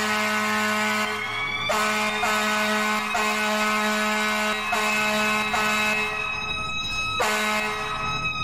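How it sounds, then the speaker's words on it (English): An emergency vehicle in the EmergeNYC video game blasts a loud, sustained horn with siren tones, several bursts cutting in and out at close range with no other voices. "She's got a really loud horn too."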